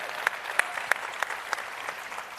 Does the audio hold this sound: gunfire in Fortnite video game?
no